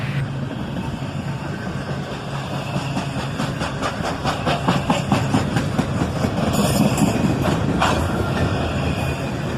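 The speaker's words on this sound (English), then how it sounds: "You could hear the slack going in there as he slows down." A slowing CSX intermodal freight train led by an ES44DC, an ES44ACH and an SD43 rebuild rumbles steadily as its slack runs in, with rhythmic clanks and knocks between the cars that grow heavier toward the end, and no voices.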